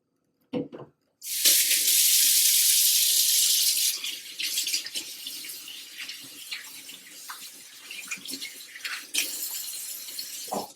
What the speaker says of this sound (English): let me make sure my hands are washed again